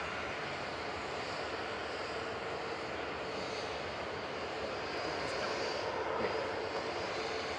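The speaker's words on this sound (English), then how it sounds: "Airbus A350-900" Cathay Pacific Airbus A350-900 arriving from Hong Kong, crossing the threshold to land at Manchester Airport; a steady, broad jet roar holds throughout, swelling slightly near the end as the airliner passes.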